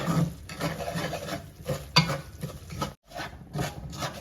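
Semolina (sooji) roasts in desi A2 cow ghee while a spoon stirs it in a pan, giving soft, irregular scraping strokes over a faint sizzle, close and quiet with no talking.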